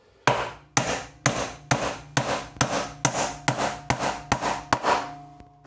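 A hammer strikes hard painted timber twelve times in a steady, evenly spaced rhythm, each blow a sharp, close, loud knock with a brief ringing decay. A voice is heard briefly.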